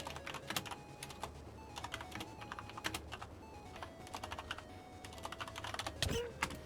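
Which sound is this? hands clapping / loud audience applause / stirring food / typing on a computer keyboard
typing on a computer keyboard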